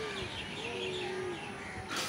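Birds call at the Alipore Zoological Garden in Kolkata, a soft, steady chirping spread across the scene at low level, with a faint whistle-like tone running underneath.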